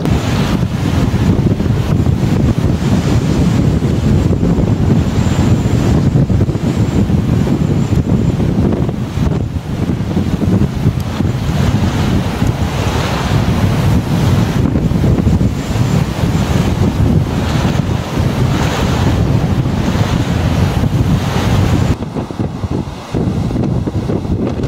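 Gale-force wind from Storm Callum roars across the mic on Bray Lake, with waves and surf churning continuously beneath it; the buffeting stays loud and steady throughout, with no voices.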